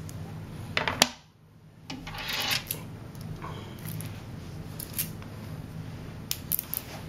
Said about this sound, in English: you take them flatten them out, and cut them into long straight pieces